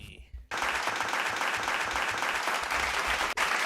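Dense clapping begins abruptly after a brief quiet start and continues steadily and loudly, a brief break near the end, with a few low voices murmuring underneath.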